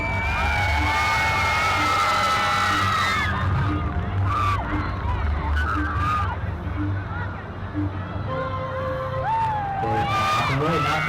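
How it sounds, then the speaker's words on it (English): A school Grand Prix crowd cheers and shouts at an elimination race launch, loud and sustained with whoops, children's voices and a few bangs, while a commentator talks over it. "Let's cheer them off for this launch."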